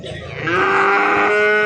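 A calf at a livestock market moos once, a loud, close, drawn-out call that swells and holds steady after a moment of background noise.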